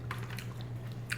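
Someone bites into and chews sushi such as spicy salmon roll, salmon nigiri, giant shrimp and octopus, with soft, close, wet chewing and small crunchy bites over a quiet low hum.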